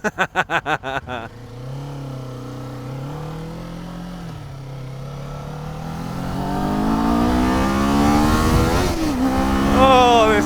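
A Kawasaki Z400 motorcycle engine revs hard while riding, its whine climbing steadily in pitch and loudness as it is revved out toward its rev ceiling, loud and close after a buffeting start.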